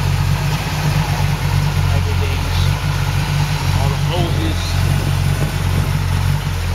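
A completely rebuilt 400 Ram Air 3 V8 in a 1970 Pontiac Trans Am idles with a steady, loud low rumble throughout, while someone talks over it nearby.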